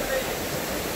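Steady broadband rush of water at the foot of Bukal Falls in Majayjay, Laguna, a continuous close, even roar with no breaks or distinct splashes.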